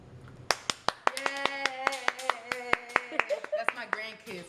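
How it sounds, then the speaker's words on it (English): Grandchildren clapping their hands in a quick, slightly uneven rhythm of sharp claps close by, speeding up near the end, with a voice faintly underneath. "That's my grandkids clapping."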